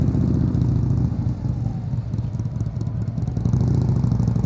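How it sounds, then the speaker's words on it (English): Motorcycle engine at low throttle during slow-speed riding practice and U-turns, a steady low rumble with slight rises and dips in revs, moderately near, no talk. "I just told you guys how nice his motorcycle sounds"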